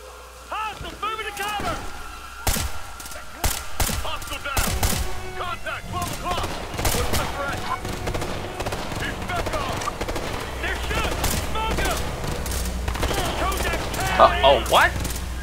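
Gunfire bursts from weapons in the Ghost Recon Future Soldier co-op video game, sharp repeated cracks scattered through the scene amid a busy, noisy mix with players talking over it.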